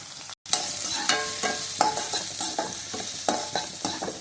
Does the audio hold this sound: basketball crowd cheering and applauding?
no